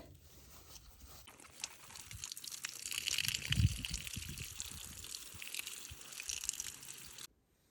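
Water splashing and trickling as garden plants and freshly set flower bulbs are watered outdoors, a soft steady pour that swells in the middle and cuts off abruptly at the end.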